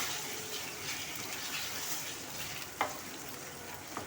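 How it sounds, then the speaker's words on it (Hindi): Half a kilo of chicken frying in hot oil for a white chicken karahi, giving a steady soft sizzle with a couple of brief sharper spatters, no speech over it. "हमारा ऑयल गर्म हो गया, हम अपनी चिकन ऐड कर देते हैं।"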